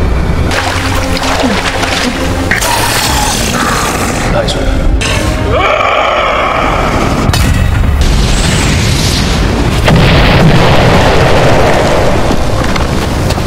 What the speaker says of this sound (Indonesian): dirinya akan berusaha meledakkan bom untuk menghabisi si makhluk